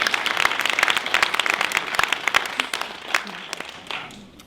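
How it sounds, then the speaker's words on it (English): An evening-event audience applauds its panelists with a dense burst of clapping, loud at first and tapering toward the end as the hands slow and fade. "Can we give another round of applause for our panelists and amazing moderator?"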